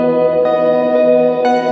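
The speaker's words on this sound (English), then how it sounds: "Here's a good example of a reverb-like patch." Sustained guitar chord through a reverb-like patch on a Meris LVX or MercuryX pedal, washed in lush, shimmering reverb, with soft new notes blooming into the wash at regular intervals.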